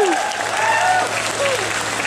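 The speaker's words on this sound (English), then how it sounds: "Give a round of applause for Hidden Block" Steady, dense applause from a live audience at a Family Feud-style game show at the EGLX 2018 gaming expo, continuous crowd clapping with a few voices calling out over it.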